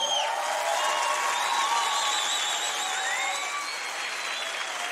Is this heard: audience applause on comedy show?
yes